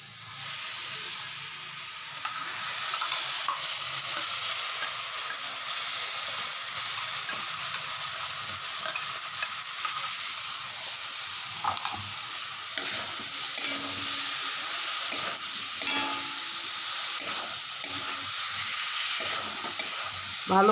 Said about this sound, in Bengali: ভালোভাবে আলুটার সঙ্গে ধনে পাতার পেস্টটাকেও মাখিয়ে দিতে হবে।